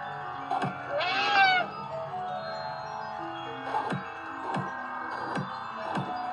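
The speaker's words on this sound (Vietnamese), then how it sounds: "Có một chú mèo ở bên này." A cat in a video game gives several short meows, spaced apart over a steady background tone, with one longer wavering cry early on.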